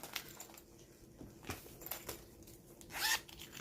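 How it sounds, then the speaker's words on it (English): A zipper is pulled in a few quick rasping strokes, close by, ending in one longer, louder zip near the end. "I like that it's got the two zippers."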